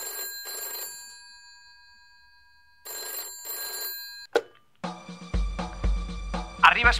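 A telephone bell rings in two short bursts as the Bishop of Urgell calls the Guardia Civil in a comedy sketch, and a voice answers right after.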